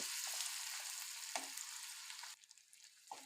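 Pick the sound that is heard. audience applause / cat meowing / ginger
ginger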